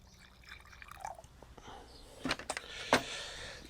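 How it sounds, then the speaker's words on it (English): Hot water poured into a small amount of molasses while making bokashi bran, heard as soft trickling with a few sharper splashy bursts near the end, close and fairly quiet. "little bit of hot water to melt that."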